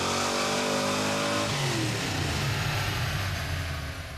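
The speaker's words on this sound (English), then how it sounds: "After securing the car on the dyno jet and a quick warm-up, we'll be ready to see how much of that 502's power gets transferred to the rear wheels" A 502 big block V8 in a Monte Carlo roars at full throttle on a chassis dyno, loud and close, its pitch climbing through a gear change before holding steady and easing off at the end.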